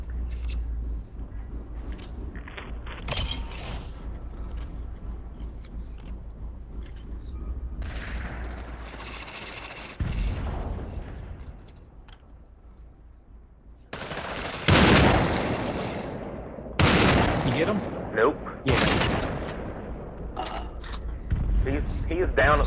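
Video-game shootout at an outpost with gunfire, sharp loud bursts and single shots breaking out over mechanical clatter, with quieter stretches between volleys and players talking at times.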